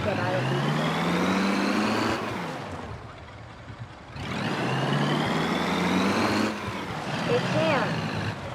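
Car engine from an offroad driving video game, a non-offroad car pushed across rough terrain. The engine drones and rises in pitch twice as it revs up, dipping in between, with a speaking voice partly over it.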